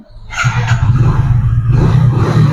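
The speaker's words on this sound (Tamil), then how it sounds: "வண்டி ஸ்டார்ட் பண்ற பாருங்க." A Hero Splendor Plus motorcycle, single owner, starts up and settles into a steady, close, loud idle. The low engine rumble runs continuously after a brief start, and no one speaks.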